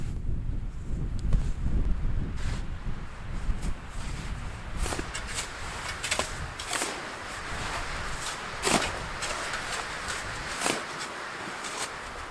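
Winter wind gusting across a frozen lake, a steady rumbling roar buffeting close to the microphone throughout, with scattered crunching and rustling sounds like footsteps on snow and handling noise, and no speech.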